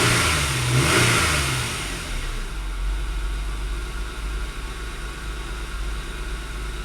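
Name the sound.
1997 Nissan Maxima engine revving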